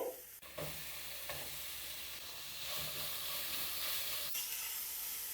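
Finely chopped onion fries in a pan with a steady hissing sizzle, close and moderately quiet, punctuated by a few brief stirring scrapes and bumps.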